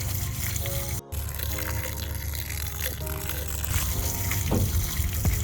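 Water trickling and splashing steadily onto the soil around newly planted young apple trees, a continuous close running-water sound with a brief break near the start, growing slightly fuller toward the end.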